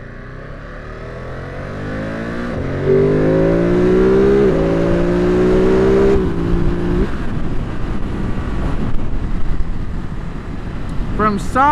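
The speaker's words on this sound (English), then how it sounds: "From stoplight to stoplight, this is a super fun motorcycle." A 2022 Ducati Monster motorcycle accelerates through the gears, engine pitch rising in several sweeps between shifts, with heavy wind buffeting on the microphone as it rides on.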